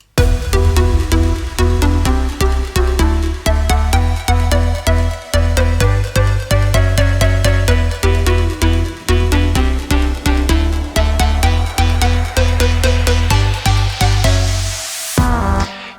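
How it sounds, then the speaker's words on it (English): EDM breakdown built from three layers, a lead synth, bass and filtered chords, playing in a loud, steady pulsing rhythm that ends in a rising white-noise sweep. "it is made basically by 3 different layers: the lead sound, the bass sound, and the chords, which are already filtered, which makes the rising up effect"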